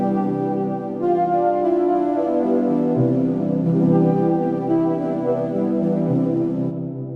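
A warm, sustained synthesizer pad plays slow, moody chords that shift every second or two, full and smooth with no voices.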